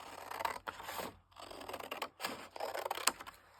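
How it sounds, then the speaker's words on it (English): Scissors snip through paper for a collage folder in several short, close cuts with brief pauses between them, quiet and crisp. "see if I can cut it right here"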